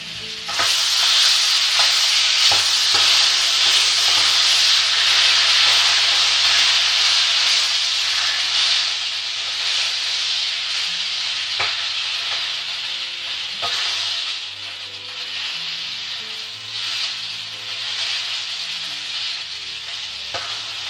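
Rojões, pork pieces, fry in a pan, giving a loud, continuous sizzling hiss close by, broken by occasional scrapes and clicks as they are stirred, with no talk.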